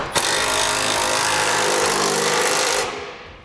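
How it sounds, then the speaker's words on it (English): An impact wrench with a 15/16 socket tightens gooseneck hitch frame bracket bolts under a 2016 GMC Sierra 2500, letting out a loud, continuous rattling whir that cuts off near the end. "Now we use a 15/16 socket and tighten up our frame brackets."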